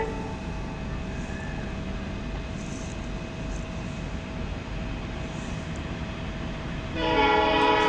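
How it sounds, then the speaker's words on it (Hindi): Steady rumbling noise of an Indian express train fills the scene, then a loud, sustained horn blares near the end, close by and harmonic. "ट्रेन का हॉर्न की आवाज़ आ रही है"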